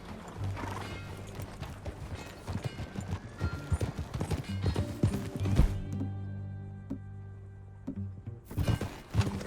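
Horse hooves clip-clop at a steady riding rhythm in the Red Dead Redemption 2 video game, with a horse neighing and whinnying, some thuds, and a brief quieter stretch before hooves return.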